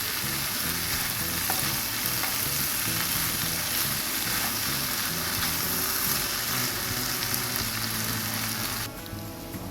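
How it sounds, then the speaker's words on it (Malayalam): Beef and coconut fry in a pan over a medium flame, a steady loud sizzle with scraping stirring throughout, no talk, the sound thinning abruptly just before the end. "ഒരു മീഡിയം ഫ്ലെയിമിൽ ഇട്ടിട്ട് നമ്മളത് ഇളക്കി അതിൻ്റെ കളർ മാറുന്ന വരെ നന്നായിട്ട് ഫ്രൈ ചെയ്ത് നമ്മളെടുക്കുകയാണ് ചെയ്യുന്നത്"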